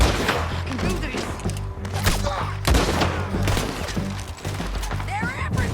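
Rapid gunfire in Red Dead Redemption 2 during a shootout against charging attackers: repeated loud sharp shots and bursts in quick succession, with thumps and crashes and a shouting voice over them.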